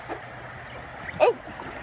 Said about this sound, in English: You're rocking the boat.